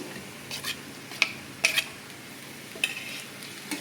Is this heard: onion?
yes